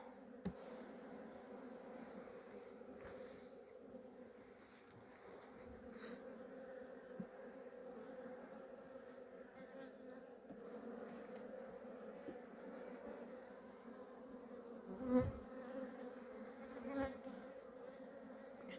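Honey bees buzzing at a hive in February, a steady, low drone with a few louder passes close by over a constant hum.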